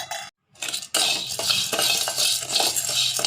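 Sago being sautéed in a pan with a metal spoon, giving repeated close scraping and clinking strokes over a soft sizzle, with a brief silent gap near the start.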